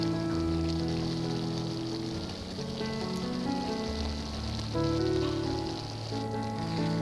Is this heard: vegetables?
yes